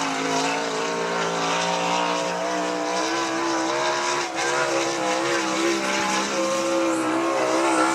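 Sprint cars of the Great Lakes Super Sprints, including the number 10S, roar through a turn at I-96 Speedway, a loud sustained multi-engine drone with shifting pitch and no voices.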